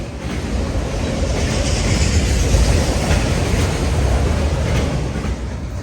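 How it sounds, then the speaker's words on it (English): An autorack freight train of uniform cars passes close by in Folkston, Georgia, a loud continuous roar of wheels clattering over rail joints that swells in the middle and eases slightly toward the end. "autorack train, freshly released from Rice Yard and Waycross"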